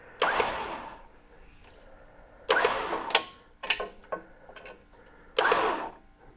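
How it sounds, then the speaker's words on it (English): Winch on a new Ford Bronco reeling in, heard as several short whirring bursts separated by quiet pauses, fairly close and moderate in level. "Nope, that's winch out, and this is winch in."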